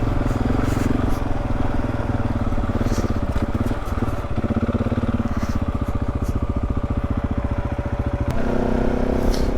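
An adventure motorcycle rides on a paved road with bent handlebars and shifted triple clamps. The engine drones loud and steady throughout with wind rush and a brief shift in pitch near the end. No voices.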